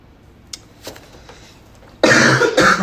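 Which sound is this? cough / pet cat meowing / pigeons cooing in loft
cough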